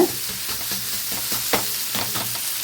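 Rava roti cooking on a hot tava gives a steady sizzling hiss, broken by soft scraping and tapping sounds at a fairly even rhythm, with no voices.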